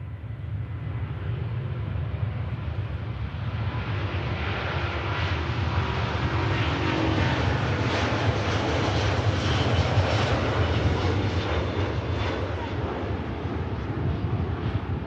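A fixed-wing airliner coming in to land at Manchester Airport, a steady broad engine roar lasting throughout, swelling slightly toward the middle, with some wind buffeting on the microphone.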